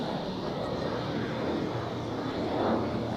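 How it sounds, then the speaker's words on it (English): A Swiss Airbus A220 arrives at Zurich Airport, a continuous broadband jet roar heard at moderate distance, steady and slightly swelling toward the end. "we have a Swiss A220 inbound from London Heathrow"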